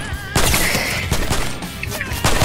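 Gunfire in the video game Fortnite crackles in loud rapid bursts close up, with repeated sharp shots and a brief excited voice mixed in among the shooting.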